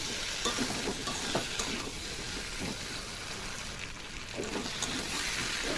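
Taro corms fry slowly with spices in a pan over a low flame, making a constant soft sizzle with a few faint stirring scrapes in it.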